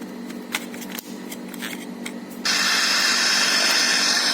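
A cheap Chinese radio receiver running on weak batteries gives off scattered clicks and chirps, then suddenly breaks into a loud, steady hiss and whistle that holds close and constant to the end.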